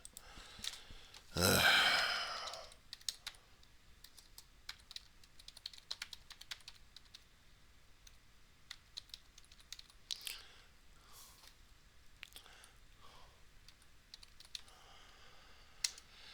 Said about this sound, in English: Okay, so typing in the search engine regarding this one